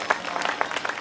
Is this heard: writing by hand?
no